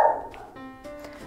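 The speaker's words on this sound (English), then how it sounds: "And you'll hear my dog" A dog barks at people walking along a road, one sharp bark followed by fainter yips and whimper-like tones at moderate distance.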